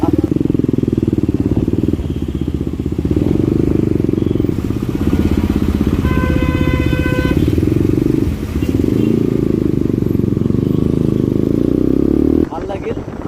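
KTM and R15 motorcycles in a drag race, engines droning loud and steady throughout with a brief rising rev partway, while people talk over the noise.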